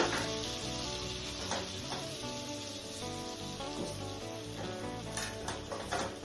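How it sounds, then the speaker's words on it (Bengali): Black cumin seeds sizzle and crackle steadily in hot butter, a close, loud frying hiss with occasional spoon clinks against the pan. "এখন আমি কালো জিরে দিয়ে নিয়েছি, ওটাকে ফোড়ন দিয়ে দিচ্ছি"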